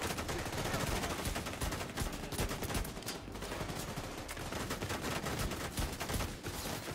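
Dense, rapid bursts of gunfire from The Division 2 crackle continuously in a shooter firefight, shots overlapping in quick succession at close range with no clear pauses.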